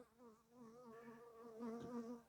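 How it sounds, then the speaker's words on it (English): Honeybees buzz right against a microphone, a droning, wavering hum that swells louder as they circle close, with no one talking. "These bees love my mic."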